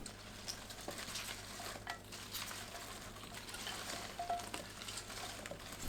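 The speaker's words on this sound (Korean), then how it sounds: "풋마늘 넣고 버무립니다." Green garlic being tossed by hand with vinegar, cane sugar, ginger syrup and chili flakes, a soft, continuous moist rustling and squishing, close and fairly quiet with no talk.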